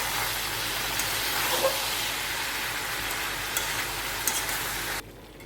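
Soybean chunks being stirred with spiced potatoes in a pan, a continuous moderate sizzle with faint scraping clicks of the spoon, cutting off abruptly at the end, no voices.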